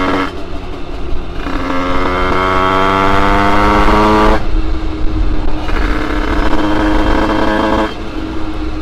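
Motorcycle with an 86cc Top alu kit during running-in, its small high-revving engine buzzing loudly nearby, rising and falling through repeated rev surges with brief throttle lifts between them.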